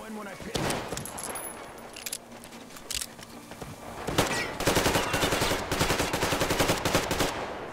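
Gunfire in the video game Metro Exodus, bursts of rapid automatic shots that grow denser and louder in the second half, with a steady game soundtrack and ambience underneath.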